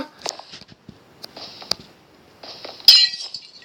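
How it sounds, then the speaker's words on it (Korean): A mobile phone smashing in a hospital role-play skit, heard as a few sharp glassy clinks and taps followed by one loud bright crash near the end, all close and with no talk. "내 휴대폰까지 박살나가지고"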